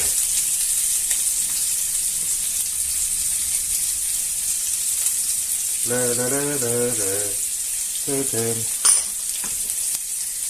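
Onion and garlic sizzling in oil in a pan with chorizo, a steady loud frying hiss throughout, with brief stirring clatter and a short tonal interruption midway.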